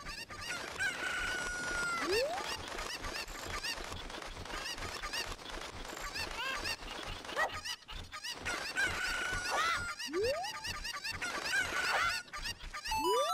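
In The Legend of Zelda: Ocarina of Time, chickens cluck and squawk in loud, repeated bursts with rising cries, over a dense layer of game sound.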